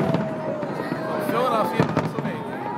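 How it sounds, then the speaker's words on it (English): Fireworks finale at Penn's Landing in Philadelphia, with a dense run of crackling bursts and whistling rockets, while someone talks over the booming display. "the firework finale here at Penn's Landing coming up right here, right now"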